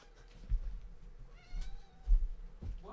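A house cat meows indoors, one faint rising meow standing out midway amid quiet room noise and soft thumps, with no talk over it.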